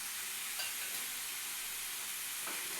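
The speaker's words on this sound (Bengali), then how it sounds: "এটা যখন ফুলকপি নুন হলুদ চিনি দিয়ে এটাকে ভালো করে লাল করে ভাজতে হবে।" Cauliflower fries in oil with salt, turmeric and sugar, making a dense, continuous hiss of sizzling close by, with a couple of faint stirring scrapes.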